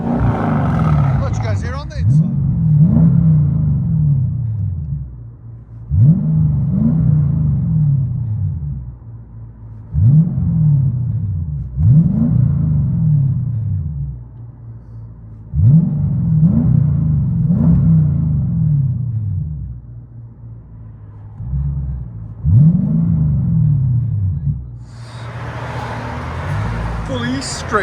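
A straight-piped Mercedes-AMG V8 revs hard in repeated loud bursts, heard from inside the car, each rev swelling to a deep roar and dropping back to idle about every five seconds, with a brief voice near the end.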